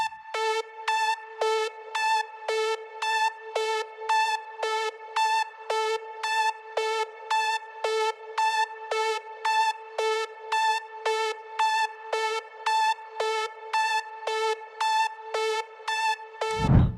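A synth lead from the Spire plugin in FL Studio plays a rapid, even, repeating pattern of bright plucked notes, about sixteen in a row, loud and alone, ending with a low thump.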